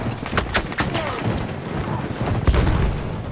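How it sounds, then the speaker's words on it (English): Scattered gunshots crack in quick bursts amid distant booms, a busy stretch of Battlefield 1 beta combat with occasional voices underneath. "Explosions and bullets are coming in from every direction."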